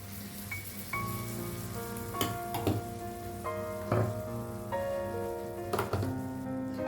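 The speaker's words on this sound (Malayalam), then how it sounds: "മിക്സ് ചെയ്തതിന് ശേഷം 1/2 കപ്പ് പുളിവെള്ളം ഒഴിച്ചു കൊടുക്കാം" Tamarind water poured into a hot chili garlic mixture for Kerala-style chutney gives a close, steady crackling sizzle that flares in brief bursts, with gentle music playing underneath.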